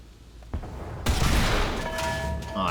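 AMX-30 tank cannon firing in War Thunder, a sharp single boom followed by a sustained rumbling roar and trailing mechanical hum, no talking.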